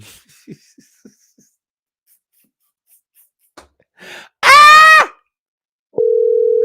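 A telephone dial tone sounds after a call is hung up, a steady loud tone that follows a few faint clicks and a short wheezy sigh.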